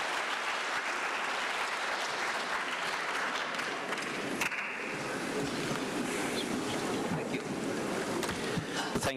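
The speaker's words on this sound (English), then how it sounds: "I think they deserve a big round of applause, another one" A conference audience gives a panel a round of applause, dense clapping at a moderate distance that runs steadily for several seconds with a brief sharp crackle midway.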